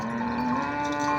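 A cow lows with a steady, tonal moo at a busy Kharian livestock market, close and fairly loud, held for about a second over a low crowd murmur.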